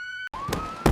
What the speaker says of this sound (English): Oh no! Police cars!